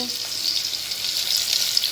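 Cumin seeds and curry leaves sizzle and crackle in hot oil with raw banana, a steady close frying hiss with small pops throughout.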